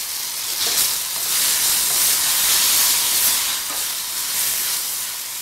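A tempering for smoked brinjal chutney sautés in a pan, giving a loud, steady hissing sizzle that swells and eases slightly with stirring, with no voices.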